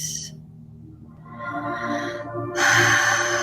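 A person breathes in and then out during a breathwork session, a slow, close inhale followed by a louder, breathy exhale, with no talking.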